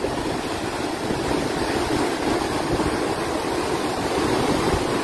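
Floodwater at Bustos Dam rushes in a loud, steady roar that holds without a break throughout.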